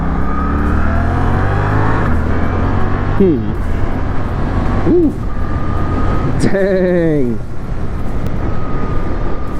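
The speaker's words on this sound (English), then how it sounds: "That is a really smooth engine" Suzuki GSX-8S motorcycle riding on roads in St. Charles, Missouri, its engine droning loud and steady with rising and falling pitch as it shifts, wind rushing over it, and a rider's brief exclamations.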